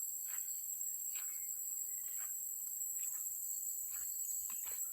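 Cicadas drone in a constant, high-pitched shrill buzz, with a few faint chirps scattered underneath.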